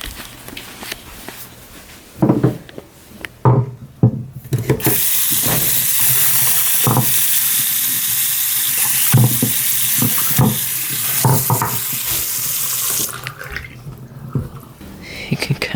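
Something is rinsed under a running sink tap, a steady close rush of water lasting several seconds, preceded by a few clattering knocks and a voice speaking.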